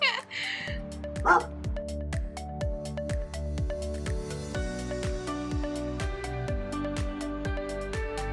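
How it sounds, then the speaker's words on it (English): A dog barks and yips over and over, close and loud, in a rapid, steady run of sharp calls with occasional whimpering tones. "That dog scared me."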